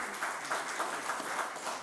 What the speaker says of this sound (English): I think a big round of applause for all the 10 CISOs and also the audience